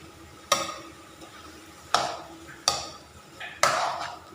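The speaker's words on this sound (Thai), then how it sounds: "ก็ผัดกะทิแตกมันไปเลย" Coconut milk is stir-fried until the oil separates, with four sharp scrapes and knocks of a utensil against the pan at uneven intervals, each trailing into a soft sizzle.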